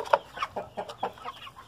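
Clucking from a Polish rooster and a grey hen comes close and clear in a quick series of short calls, with no voices.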